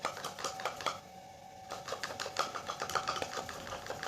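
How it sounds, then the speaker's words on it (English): Thick Fevicol Pro Bond glue being mixed with a spoon, a quick run of small scraping clicks and taps against the container, with a brief pause before the stirring resumes. "So I will mix it with spoon like this."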